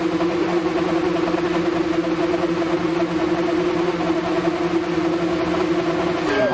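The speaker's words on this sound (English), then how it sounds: "you can kind of already hear them revving up" Go-kart engines with F1-style high-revving sound in the rally video game Dirt Rally 2.0, a steady buzzing drone held at constant pitch throughout, loud and continuous, with a short rising whine at the end.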